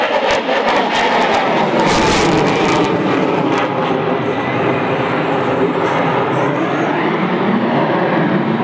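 A jet aircraft at an air show roars past in a loud, sustained rush that swells and then keeps rumbling as it moves away.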